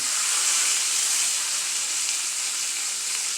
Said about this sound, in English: we're going to leave this simmer in the butter here for about 6 minutes